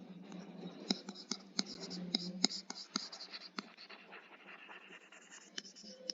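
Pen writing chemistry notes on paper, a steady run of scratchy strokes with frequent sharp taps, close and fairly quiet.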